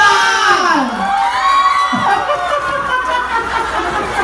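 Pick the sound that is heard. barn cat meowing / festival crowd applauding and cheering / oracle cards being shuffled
festival crowd applauding and cheering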